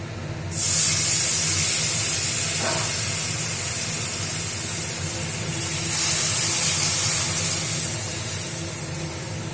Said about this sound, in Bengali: হয়েই গেছে এবার আমি ডালটাকে ছেড়ে দেবো